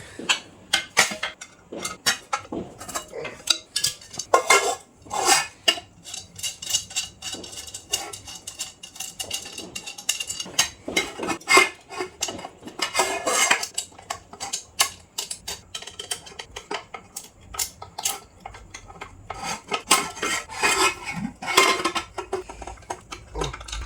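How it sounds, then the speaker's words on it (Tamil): Pressure cookers get handles screwed on, with rapid metallic clicks, ratcheting ticks and clattering knocks of a screwdriver and metal parts in uneven close bursts that go on throughout. "இந்த குக்கரை டைட் பண்ணுறதுக்காகவே இந்த ஸ்க்ரூ ட்ரைவர் வாங்கிட்டு வர வேண்டியதாக இருக்குது"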